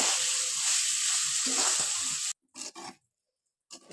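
Chicken roll filling sizzles and crackles loudly in a frying pan as it is stirred and cooked down, a steady dense fry for about two seconds that cuts off, followed by a few short scraping bursts of stirring.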